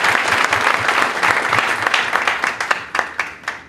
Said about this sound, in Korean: 똑같은 답변이라 박수 한번 치겠습니다.